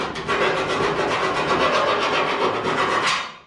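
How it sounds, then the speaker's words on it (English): A round file rasps steadily around the inside edge of a hole in a Datsun 240Z body panel, scraping off epoxy in quick back-and-forth strokes that stay close and loud before stopping. "Let's get a round file to run around the inside of the hole."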